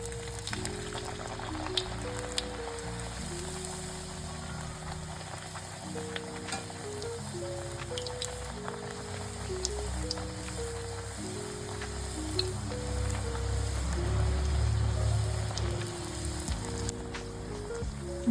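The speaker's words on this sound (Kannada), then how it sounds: "ಎಣ್ಣೆ ಕಾದಿದೆ. ಈಗ ಪೂರಿನ ಕರ್ಕೊಳ್ಳೋಣ." Sajje (pearl millet) masala puris frying in hot oil over a medium flame, a soft continuous sizzle and bubbling that swells toward the end, under background music.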